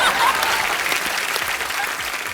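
A studio audience on The Kapil Sharma Show, a comedy show, claps loudly and steadily throughout.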